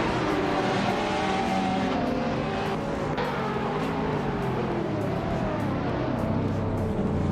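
Video-game race cars, including a 2012 Pagani Huayra, roar continuously in a street-circuit race at Valencia, engines droning and shifting with passing whooshes and faint tire noise, loud and steady throughout with no talk.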